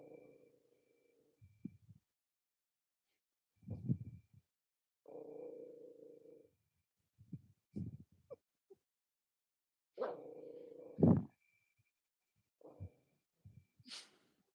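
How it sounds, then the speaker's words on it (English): Small dog Chico growling in intermittent low rumbling bursts, close to the microphone, with short pauses between growls and a few sharper yips toward the end, no talking. "Y'all hear him growling? Can y'all hear him growling?"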